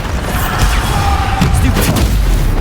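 In the Hogwarts Legacy video game, a Bombarda spell explodes with a loud, heavy boom over continuous game sound and rumbling, accompanied by sharp crackling bursts.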